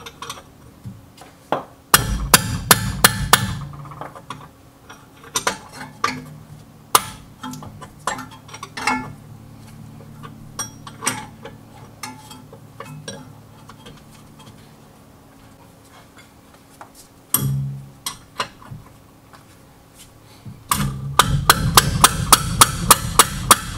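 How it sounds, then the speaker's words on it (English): A manual impact hammer strikes the 17 mm brake caliper bolts on a Toyota Corolla, giving sharp metallic blows in scattered single hits and dense rapid bursts near the start and end, with no talk. "Manual impact hammer is how you take the loose tight bolts without cracking your knuckles."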